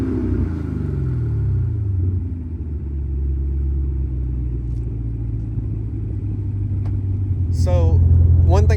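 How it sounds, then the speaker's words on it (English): Cadillac CTS-V Blackwing engine running loud and steady with a deep low rumble, swelling slightly toward the end as it is revved; someone talks briefly over it. "Let's rev it."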